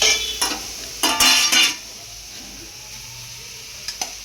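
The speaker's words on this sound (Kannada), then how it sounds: "ಇದು ಈಗ ಅನ್ನ ಹಾಕಿ ಮಿಕ್ಸ್ ಮಾಡೋಣ" A spoon scrapes and clatters in a pan as rice is mixed into mushroom fried rice, giving a few quick bursts of stirring before a quieter stretch with faint taps, and no one speaks.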